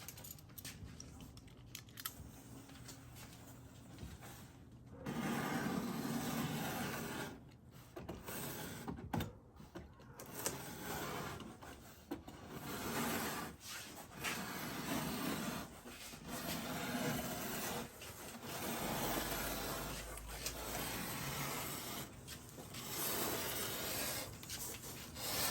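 Utility knife slicing along a bend in insulation for a Sprinter van subfloor, a series of close scraping and rasping strokes with pauses between them, quiet throughout.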